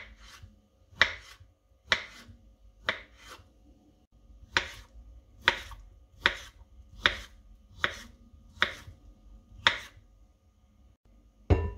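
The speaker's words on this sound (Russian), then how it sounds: "Берем отварную свеклу, 3 штуки, и нарезаем кубиком." A knife dices boiled beets on a cutting board, about a dozen crisp, evenly spaced strikes close up in a quiet room.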